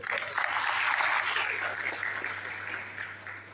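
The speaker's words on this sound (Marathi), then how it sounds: "त्या मुलीला पहिले टाळ्या वाजतो" A small group claps for a few seconds, a steady patter of applause that gradually fades, with faint voices mixed in.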